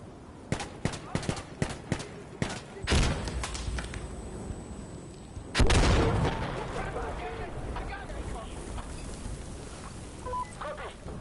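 In the video game Insurgency, a grenade explodes with a heavy, booming blast midway through, preceded by several sharp gunshots and a smaller burst, then trailing off into rumbling echoes and debris.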